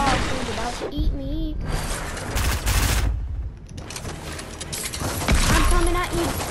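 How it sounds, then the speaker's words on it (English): Rapid bursts of Fortnite gunfire rattle in clusters of close, sharp shots, with a player talking over the shooting. "I'm being shot by someone else right now"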